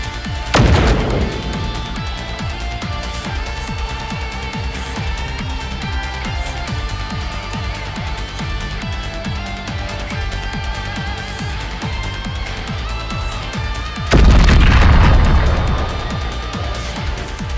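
Explosions sound in the mobile game Nikke: Goddess of Victory, with two heavy booms about fourteen seconds apart. Dense crackling battle effects and a musical bed continue loudly between them, and no one speaks.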